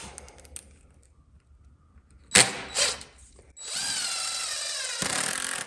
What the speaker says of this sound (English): And then I have the hammer drill that does all the work.